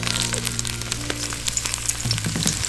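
Asparagus spears sizzle steadily in a hot pan, a close continuous fry with crackling pops over a low steady hum, no talking.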